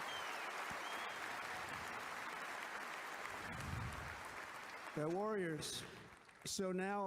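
Steady crowd applause at a political speech fills the space for several seconds, then fades as a voice begins speaking over the last of the clapping.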